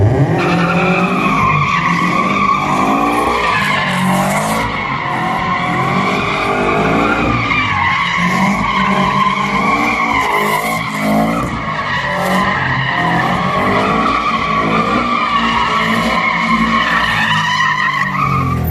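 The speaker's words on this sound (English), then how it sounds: "do some drifts." A Subaru BRZ with a newly fitted transmission and upgraded clutch drifts, its tires squealing loudly and continuously over a steady engine drone for the whole stretch, close and unbroken.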